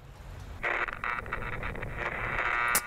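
A loud radio plays inside the horror video game VHS Slaughter, giving off a harsh, distorted staticky broadcast over the rumble of heavy rain and wind. It is steady and fairly near.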